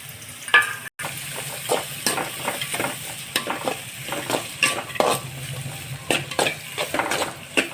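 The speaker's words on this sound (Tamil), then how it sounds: "கொஞ்ச நேரம் வெங்காயம் நல்லா வதக்கி விட்டுட்டே இருங்க." Onions and curry leaves sautéing in oil in a kadai, a steady close sizzle broken by repeated scraping stirs of a spoon against the pan, with no voices.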